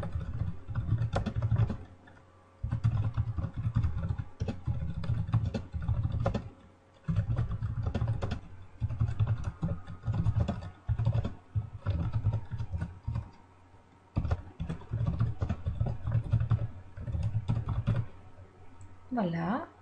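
A computer keyboard clattering as a sentence is typed, with close, steady bursts of key presses separated by brief pauses, continuing for most of the stretch without any talking.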